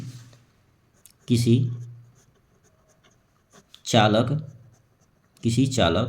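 Chalk or pen scratching out notes during a Class 10 physics lesson on electric current, faint and intermittent between stretches of a teacher speaking in Hindi.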